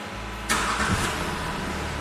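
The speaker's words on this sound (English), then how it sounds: "I'm just going to try and restart it." A Jaguar XF 3.0d diesel that has just cut out is restarted: a short starter crank catches into a rising engine note that settles quickly, heard close up with no talking.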